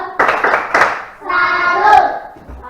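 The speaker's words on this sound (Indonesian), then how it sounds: "Oke, kita kasih tepuk salut buat kelompok 3." A classroom group does a 'tepuk salut' clap: three quick, loud hand claps, then children's voices chanting together over a brief burst of clapping.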